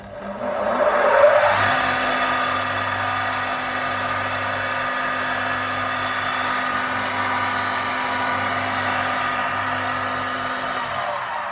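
A metal cut-off saw with an abrasive wheel spins up to speed, a rising whine that settles into a steady loud hum held alone for about ten seconds.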